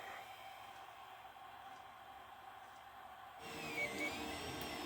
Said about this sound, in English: I'm printing off some hubs, I'll call them.